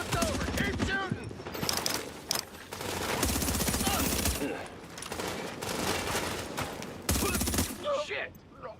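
Sustained bursts of automatic gunfire and overlapping shots in The Division during a supply drop fight, loud and dense throughout with brief lulls, voices speaking intermittently over the shooting.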